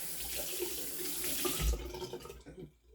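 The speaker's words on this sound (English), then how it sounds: "if you want to use it as a soap, you can get your hands wet" Tap water runs steadily into a sink as hands are wetted to lather whipped shaving cream, with a splashy burst before the flow stops near the end.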